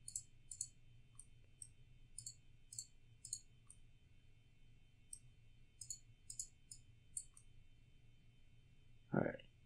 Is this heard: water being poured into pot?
no